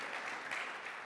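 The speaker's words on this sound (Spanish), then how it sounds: "denle un aplauso a las mujeres" A church congregation applauds the women during a Resurrection sermon, a soft, steady patter of clapping from a crowd at moderate distance, with no talk.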